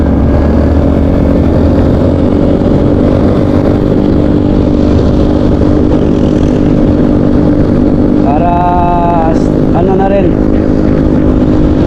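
A motorcycle rides a long coastal road from Baybay toward Macrohon in Southern Leyte, a close, steady engine drone under heavy wind rumble, with a short burst of revving partway through.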